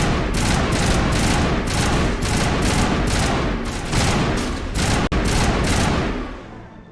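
Dense, rapid gunfire from Mass Effect Legendary Edition, a loud continuous fusillade of repeated shots with a sharp crack near five seconds before the barrage fades out at the end.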